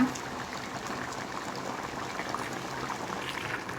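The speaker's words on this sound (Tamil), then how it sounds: "இன்னும் ஒரு பத்து நிமிஷம் நல்லா கொதிக்கிட்டுங்க" Thick chicken curry bubbles and simmers steadily in a pot, a soft continuous gurgling close by with no voices.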